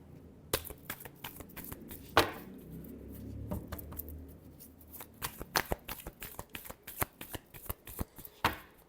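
Tarot cards shuffle in the hands up close in a steady series of crisp, papery riffles and taps, with a few sharper snaps standing out among them.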